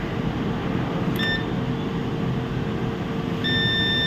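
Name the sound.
multimeter continuity beep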